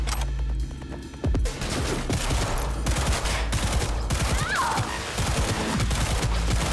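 A rapid burst of pistol fire crackles in the video game Cyberpunk 2077, with dense overlapping shots and impacts continuing across several seconds, loud and close.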